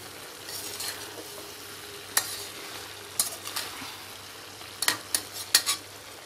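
Broccoli sabzi fries in a pan under a soft continuous sizzle, while a spoon stirs and scrapes against the metal in scattered sharp clinks, growing busier toward the end, with no voices.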